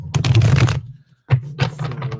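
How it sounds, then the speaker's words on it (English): A deck of tarot cards is shuffled in two bursts of riffling, flapping card noise separated by a brief pause, fairly close and loud. "Shuffle, shuffle, shuffle."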